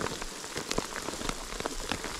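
Steady rain patters on a surface during a bicycle ride in wet weather, a dense continuous hiss with scattered sharper drop hits, close and fairly quiet.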